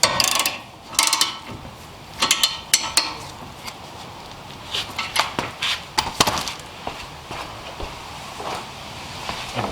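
A ratchet tightens the front brake caliper bolts on a 2010-2015 Hyundai Elantra, giving quick bursts of metallic clicking with clanks of tools between them, close and irregular, with no talk.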